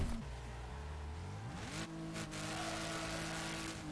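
A race car engine drives offroad in Wreckfest, a steady mid-pitched hum that dips and then climbs as the car accelerates, heard alone at moderate distance.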